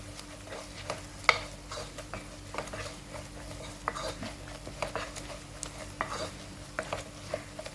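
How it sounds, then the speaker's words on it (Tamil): Chili powder and coriander powder being sautéed in a pan over low heat for fish curry, a soft steady sizzle with frequent spoon scraping and stirring clicks close by, without talk. "2 டீஸ்பூன் மிளகாத்தூள், 4 டீஸ்பூன் கொத்தமல்லி தூள் போட்டு இதை நல்லா வணக்கிக்கலாம்"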